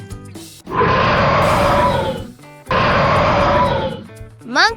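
A lion roars in two long, loud, rough bursts separated by a short pause, with fainter tonal sounds before and after.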